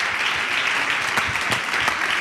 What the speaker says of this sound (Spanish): Bueno, pues un aplauso para ellos.